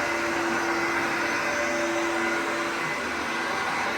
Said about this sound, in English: And then vacuum.